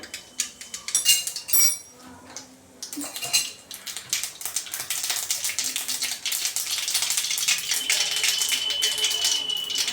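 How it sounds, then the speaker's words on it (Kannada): Mustard seeds crackling in hot oil for a tempering in a village kitchen, a dense run of sharp popping and spattering that builds into a steady, close crackle, with a few utensil clinks early on. "ಸಾಸಿವೆ ಚಿಟಾಪಟ ಅನ್ನೋದಾಗಿದೆ"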